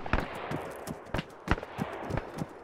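Machine gun fire in a Battle of Wake Island game, a string of rapid, fairly faint bursts and single cracks in an uneven rhythm with no talk over it.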